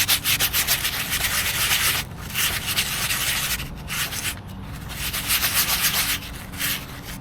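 A gold pan's surface is roughed up between the riffles to season it, giving steady, close scratchy sanding strokes in a continuous back-and-forth rhythm with brief pauses.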